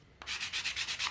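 A hand-held sanding block rubbed back and forth along the sharp edges of a wooden frame and legs, giving a steady rhythmic scratching of about seven quick strokes, close and fairly loud.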